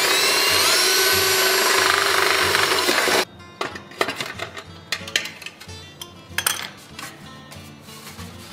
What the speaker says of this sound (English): drill out the other hole.